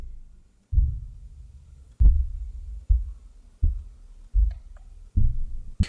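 Piano hits recorded with a LOM Geofon geophone: seven heavy, dull thumps at irregular intervals, each with a deep low boom that decays slowly, muffled and bass-heavy with no bright tone.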